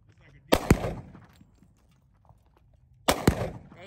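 Two loud, sharp gunshots from a Glock or M4 fired outdoors, a few seconds apart, each a close crack followed by a short decaying echo, with faint talk between them.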